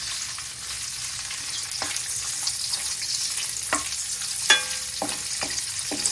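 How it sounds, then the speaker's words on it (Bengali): Ingredients for Basanti pulao, a temple offering, are stirred in a pan over a gas flame turned down to a simmer. A steady soft sizzle runs throughout, broken by a few sharp scraping strokes of the spoon. "চলো দেখতে থাকো এটা কতক্ষণ পর্যন্ত আমি নাড়াচাড়া করছি।"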